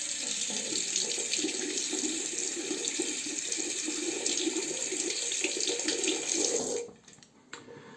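Tap water runs steadily from a faucet into a sink while a single-blade safety razor is rinsed, a continuous close splashing stream that cuts off abruptly near the end, leaving near silence and a small knock.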